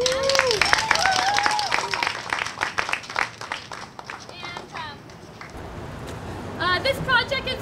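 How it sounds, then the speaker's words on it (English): Audience at an outdoor mural celebration clapping in a burst of applause, the claps strongest at first and fading, with voices and crowd chatter mixed in throughout. "So a round of applause for them."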